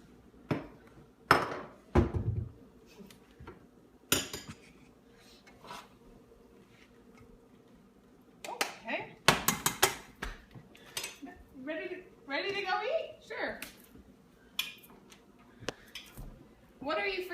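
Ceramic bowls and dishes clink and clatter in a home kitchen, with sharp knocks and a busier run of scraping and rattling near the end, mixed with people talking nearby.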